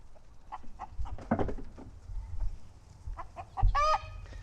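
Hens cluck in a barnyard in short, scattered bursts at moderate distance, ending in a louder drawn-out squawk near the close.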